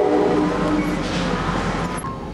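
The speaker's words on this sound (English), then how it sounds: "Oh, here comes the train." A train with new locomotives passes by on a fall morning, a loud steady rumble with broadband rail noise and a faint tonal hum, close and continuous throughout.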